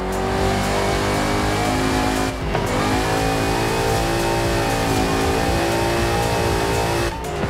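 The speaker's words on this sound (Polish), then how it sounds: "I możemy sobie takie w starym stylu power slide porobić." Alfa Romeo power sliding in Forza Horizon 5, a loud sustained engine drone holding steady revs with shifting pitch through the slide, briefly dipping midway, with no talk over it.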